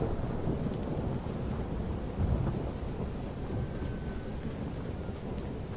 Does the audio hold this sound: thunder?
yes